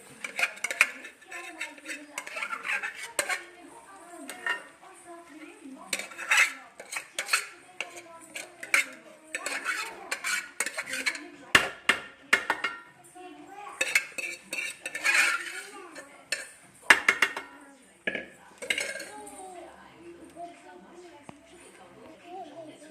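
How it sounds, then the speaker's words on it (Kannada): Cooked rice being tipped onto fried egg and mixed, with busy metallic scraping and clinking of a spoon against the pan in irregular bursts, close, while a person talks over it. "ಅದನ್ನ ಹಾಕೋತಾ ಇದ್ದೀವಿ ಫ್ರೈ ಆಗಿರೋ ಮೊಟ್ಟೆಗೆ"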